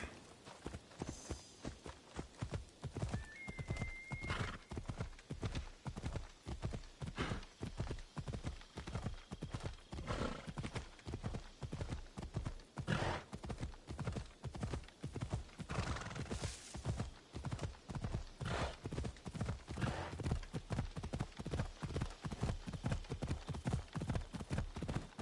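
A horse in Assassin's Creed Odyssey gallops with steady, rapid clip-clop hoofbeats throughout, and a few whinnies break in near the start and middle over faint background sounds.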